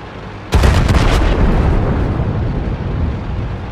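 German Panther tank firing its 88 mm gun in World of Tanks, a single loud sudden cannon blast followed by a rumbling decaying tail, alone without talk.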